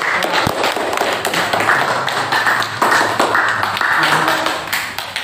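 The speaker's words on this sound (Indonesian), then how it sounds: "Ya, beri aplaus untuk kelompok." Steady applause from a classroom audience of teachers for a presenting group, dense clapping throughout at close range with no pauses.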